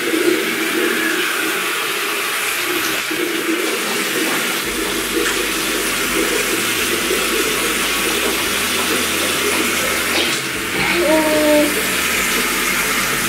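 Water runs steadily from a bathroom tap during mouth rinsing after tooth brushing, a loud, constant rushing hiss close by with faint voices under it.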